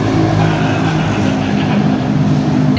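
A Toyota hypercar at an endurance race at the Circuit of the Americas passes on track, a loud continuous engine roar with a brief rising pitch, close and alone without voices.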